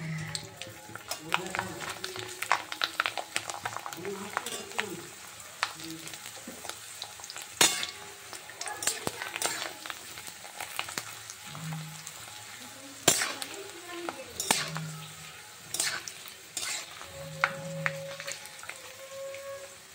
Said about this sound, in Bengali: একে একে বেশ কিছু পটেটো চিপস আমি এইভাবে একই রকমভাবে ভেজে তুলে নেব